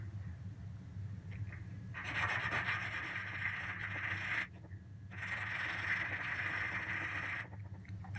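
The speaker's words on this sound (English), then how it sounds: "Just using a piece of sandpaper, rotating it back and forth." Sandpaper rubs against wood in two long back-and-forth bursts of raspy scraping, close and fairly quiet, separated by a short pause, shaping a curve on a tenor guitar being built.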